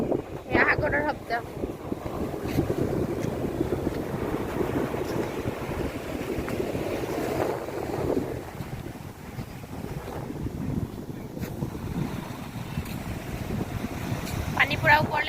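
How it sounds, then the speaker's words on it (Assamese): The sea near Digha churns in a continuous broadband wash of waves, heavily buffeted by wind noise. Faint voices and small clatters come through now and then. "এয়া সাগৰৰ শব্দ"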